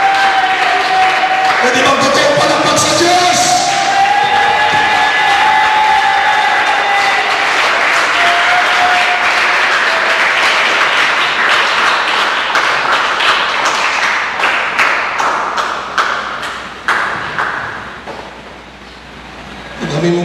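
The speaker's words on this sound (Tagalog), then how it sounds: "Pwede bang totoo palakpak sa Diyos?" A church congregation applauds and cheers for God during a Sunday service, with steady crowd clapping running throughout and tonal vocal cheers or exclamations rising in the opening seconds, then fading toward the end.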